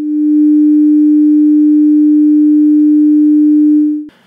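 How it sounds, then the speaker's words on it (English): A loud, pure electronic sine wave tone holds at one steady pitch for about four seconds, then cuts off abruptly with a brief click. "First, let's look at the sine wave."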